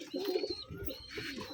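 Several pigeons cooing in a loft cage, soft repeated coos with low throaty pulses close by, a little faint chirping mixed in, no talk.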